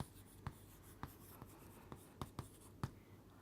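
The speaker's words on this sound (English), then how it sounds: "instead of that I am going to write teachers" Marker or chalk strokes on a classroom board, about eight short sharp taps and scrapes in an irregular rhythm, fairly faint and close, with a low steady hum underneath and no talking.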